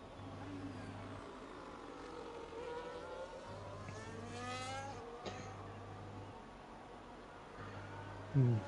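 In a Monaco racing video game, a race car engine whines and shifts pitch through the hairpin, fairly faint under a steady low hum with occasional rising revs.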